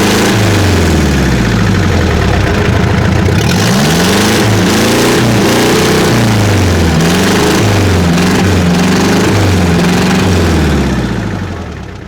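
A Daihatsu Taft F20 engine with a broken exhaust runs loud and close, idling roughly before being revved up and down several times, then fading out at the end.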